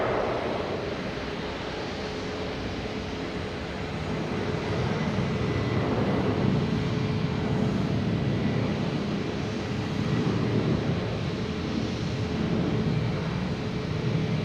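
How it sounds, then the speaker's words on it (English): A JetBlue Embraer E190 jet takes off at Boston Logan Airport, a broad, steady roar heard from a distance that swells slightly and holds, with no voices. "We got JetBlue taking off. E190, another loud one."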